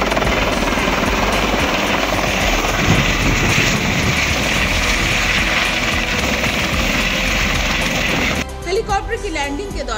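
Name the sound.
helicopter landing at a helipad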